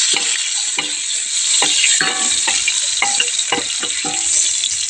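Ginger pieces fry in a pan with steady sizzling and crackling, broken by several clear scrapes and stirs of a utensil against the pan, close up and with no talking.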